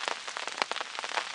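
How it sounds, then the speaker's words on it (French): Heavy downpour during a carp fishing session, with rain pattering hard and irregularly on a nearby surface in dense bursts of drops. "Ça s'arrête pas, ils avaient annoncé un peu de pluie"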